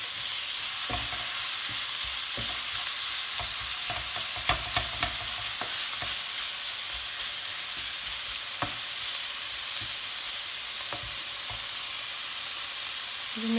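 Chicken and vegetables brown briefly in a pan, a continuous close sizzle with repeated knocks and scrapes of a stirring utensil, busiest around four to six seconds.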